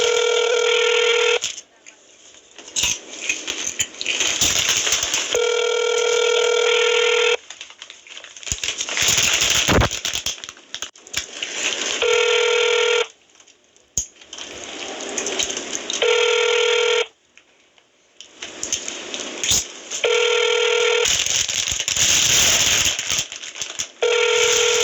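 A phone call is placed back: repeated outgoing ringback tones sound in long, regular bursts separated by gaps, with scattered clicks and muffled talk between them.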